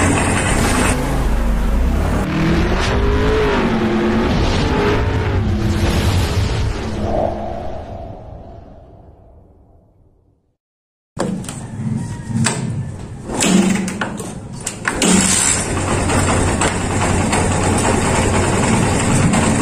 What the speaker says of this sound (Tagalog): kung bakit pumaingi yung makina